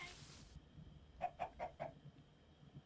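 Chicken in a video game gives four quick, evenly spaced clucks close by, following a brief burst of noise, with no talk over them.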